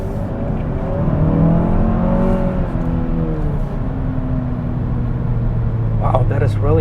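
A 2021 Kia K5 GT sedan engine revs and accelerates steadily while merging into traffic, its pitch rising and falling under a continuous road rumble, with someone talking over it.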